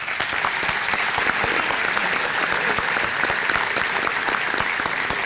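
Steady, loud applause fills a room at a Rooster Booster breakfast as a crowd cheers for an honoree, dense continuous clapping with no gaps for its full length.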